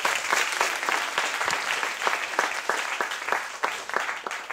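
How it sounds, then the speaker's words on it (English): A modest university audience at a research presentation competition claps for a speaker, the applause moderately quiet and distinctly patchy, with individual sharp claps standing out in an uneven rhythm. "Round of applause for Declan, please."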